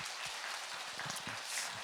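A church congregation claps together during a sermon, a dense, steady patter of many hands that holds close and even for a couple of seconds without voices.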